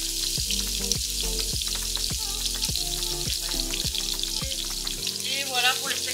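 Homemade burger patties sizzle and crackle steadily in a hot pan, a loud continuous frying hiss with faint clatter and background noise.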